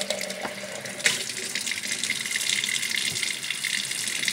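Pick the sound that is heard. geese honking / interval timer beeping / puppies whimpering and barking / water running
water running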